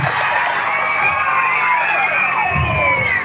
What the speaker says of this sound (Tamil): ஒரு பெரிய கரகோஷம் கொடுத்து அவரை அன்போடு வாழ்த்து